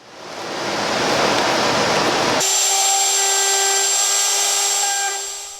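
A horizontal mortising machine cutting mortises in wood gives a loud, close rushing roar that abruptly changes to a steady, high-pitched tonal motor whine, then fades at the end. No voices.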